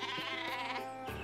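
A sheep bleats in the Worms Revolution video game, a wavering, nasal cry that holds steady for about a second before a short drop in pitch at the end, clear and close.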